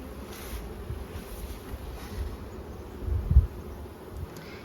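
Honeybees hum at an opened hive, a faint, low, steady buzz under light wind noise with a brief thump partway through.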